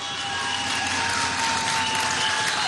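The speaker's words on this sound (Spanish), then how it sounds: "Vamos a darle un aplauso a estos nuevos ministros y ministras que llegan repotenciados." A crowd at a Venezuelan government anniversary ceremony gives loud, dense, sustained applause to newly sworn-in ministers, a steady roar of many hands with no pauses.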